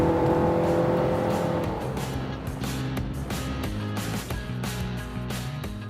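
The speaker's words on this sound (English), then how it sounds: "it still takes a little getting used to the engine revving, lack of traditional gear changes" A Nissan 2.5-liter four-cylinder engine with a CVT revs smoothly, its drone rising and holding without distinct gear shifts, moderately loud and close, with some clicks and bumps in the mix and no speech.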